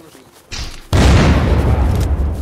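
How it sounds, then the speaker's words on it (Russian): Cars blow up in the video game Unturned: a smaller pop, then a heavy booming explosion that bursts loudly and rumbles on for over a second, with players talking over it. "Че, тачки, все, пофиг, взрываю"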